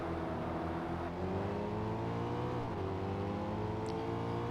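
An S Class race car engine in Forza Motorsport on the full New York circuit drones loud and steady, its pitch sweeping up and down as the car works through gears and braking zones.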